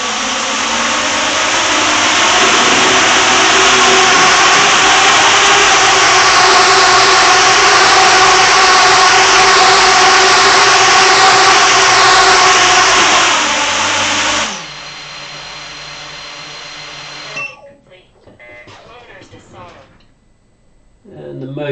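Motors of an ArduCopter 7-inch long-range drone spin up to a loud, steady whine for about fourteen seconds, then cut out, leaving faint, quieter sounds.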